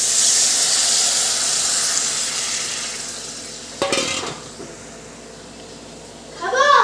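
Water poured into a hot pot of masoor lentils with ash gourd sets off a loud steam hiss that slowly fades, followed by a metallic clank and a brief bubbling stir near the end.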